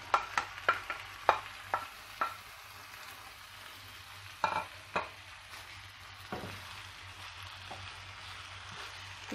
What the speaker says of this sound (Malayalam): ഇനി ഇതുകൂടെ ഈ മസാലയിലോട്ടൊന്ന് ചേർത്ത് കൊടുക്കാം.